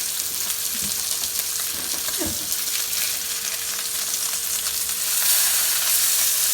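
Salmon fries in a pan with a steady, close sizzle and hiss that swells slightly near the end, with a few brief quiet voice sounds and a faint constant hum underneath.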